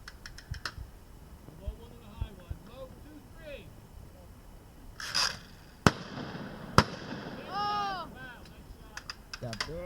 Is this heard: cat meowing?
no